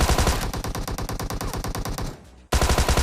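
Thompson submachine gun firing in PUBG Mobile, a loud rapid automatic burst of evenly spaced shots that stops briefly and then resumes, with no talk.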